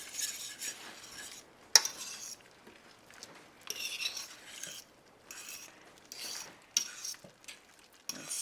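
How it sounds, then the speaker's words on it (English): An arrowroot slurry is stirred into a simmering sauce for a broccoli stroganoff made with bone broth, heard as quiet, uneven spoon scrapes and clinks against the pot with a sharp knock near the start and no speech. "And stir to make a delicious gravy"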